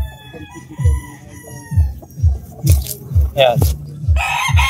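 A hatch gray gamefowl rooster crows and clucks with rhythmic, close, repeated low calls among other birds. Someone talks in Filipino between the calls.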